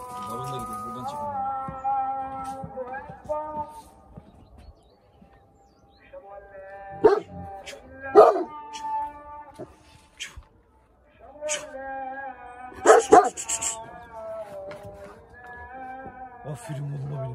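Kangal dogs give high, drawn-out whimpering whines and a few sharp barks, close by, in intermittent bursts between quieter stretches, with people talking nearby.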